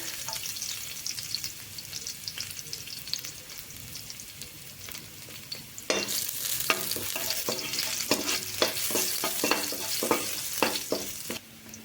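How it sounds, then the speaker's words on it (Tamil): Three garlic cloves dropped into well-heated oil for a rice dish, a steady sizzle that jumps louder and crackles harder partway through as they hit the pan, with no voices. "எண்ணெய் பார்த்திங்கன்னா நல்லா சூடாயிருச்சு. ஒரு 3 பல் பூண்டு போட்டுக்கிறேன்."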